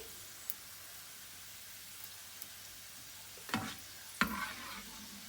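Crispy fried onions sizzle softly in hot oil under steady frying hiss, with two louder scraping clatters near the end as a metal strainer lifts them out.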